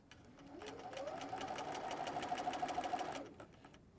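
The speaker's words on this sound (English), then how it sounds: "Put your presser foot down and sew." Sewing machine stitching fabric layers under the presser foot, a steady fast whirring run of about two seconds that rises in from quiet and stops cleanly, close and fairly loud with a faint whine.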